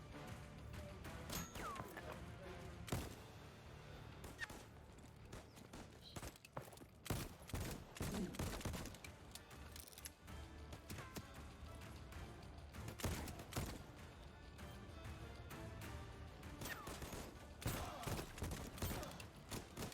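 Rapid bursts of gunfire in the video game Voidtrain, with repeated sharp shots and crashing impacts over a steady game background, fairly loud and close throughout.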